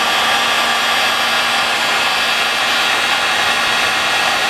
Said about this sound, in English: heat it with a heat gun